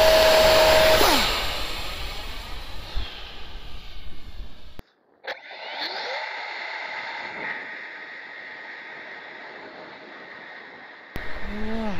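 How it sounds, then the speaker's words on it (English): A Boeing T-7A Red Hawk jet takes off on a windy day, a loud roar at first that fades into a distant whine. Wind buffets throughout, and there is a brief dropout in the middle. "T-7A Red Hawk taking off on another windy day."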